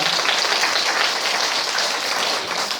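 An audience at a school debate final applauds continuously, a dense wash of many hands clapping at steady volume before easing slightly at the end.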